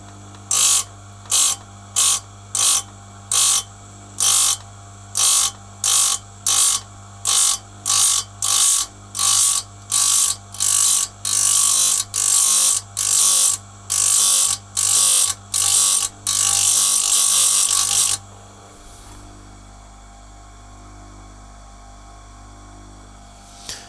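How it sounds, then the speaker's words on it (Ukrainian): A chain sharpening machine grinds a chainsaw chain in repeated short bursts, about twenty in a steady rhythm, over a constant electrical hum, then winds down leaving only the hum. "Давайте я цю сторону доточу"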